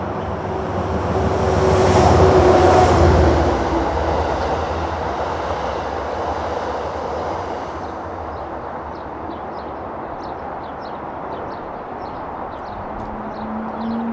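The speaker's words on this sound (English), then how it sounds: "The next train at 4:50 p.m. is Amtrak Locomotive 711." Amtrak locomotive 711 hauls an Empire Service passenger train through the hidden railroad under Riverside Park in New York City, swelling to a loud rumbling roar early on, then easing into a steady, quieter rolling clatter of the cars.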